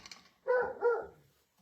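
A pet dog barks twice in quick succession indoors, two close, fairly loud barks with a slight whine after, in an otherwise quiet home.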